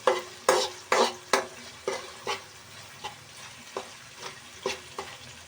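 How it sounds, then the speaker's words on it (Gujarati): Tomatoes stirred into a pan of sizzling ginger, garlic and onion, with about a dozen distinct scraping stir strokes in an uneven rhythm, loud at first and gradually softer, over a low steady fry. "તો હવે આપણે ટમેટા એડ કરી દઈશું અંદર. અને આપણે આવી રીતે આને હલાવી નાખશું."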